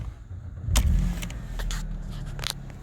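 A Mercedes C180 Compressor with a 1.8 petrol engine cranks and catches with a brief thump, then settles into a smooth, steady idle heard close by.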